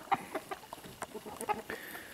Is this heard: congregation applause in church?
no